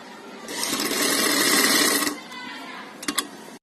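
A sewing machine runs a zigzag stitch in a steady, close whirring burst for about a second and a half, then stops, followed by a few sharp clicks of handling near the machine.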